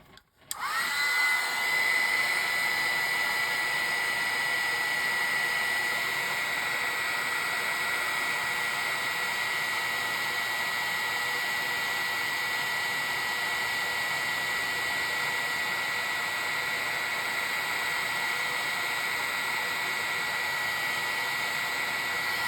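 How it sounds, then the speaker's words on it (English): A heat tool blows steadily while heat-setting paint on a watercolor craft project, a loud, continuous airy roar with a faint whine that starts abruptly and runs unbroken without any talk. "now we're going to heat set that again."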